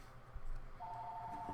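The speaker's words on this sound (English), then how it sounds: "Uh-oh. The phone!" A telephone ringing indoors, a faint electronic tone that holds steady for under a second over a quiet background, with no voices.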